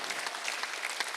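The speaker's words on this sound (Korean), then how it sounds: "박수 한번 드리세요." A church congregation claps together in a brief burst of dense, steady applause filling the room, with no voices over it.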